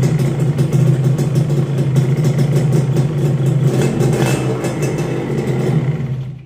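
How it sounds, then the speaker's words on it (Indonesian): A Suzuki Satria two-stroke motorcycle engine running steadily close by, a loud buzzing drone with a rapid rhythmic pulse and slight variations in revs, no talk. "Untuk mesin ini udah halus banget, cuma kan dia masih agak rayon dikit ya."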